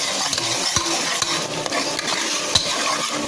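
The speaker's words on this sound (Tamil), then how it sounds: "இந்த இஞ்சி பூண்டு பேஸ்ட்டோட வாடை வந்து போகிற வரைக்கும் வதக்கிட்டே இருக்கணும்." Ginger garlic paste sautéing in a pan for a village-style mutton curry, a loud continuous sizzle with a few stirring scrapes and light clinks against the pan, close and without talk.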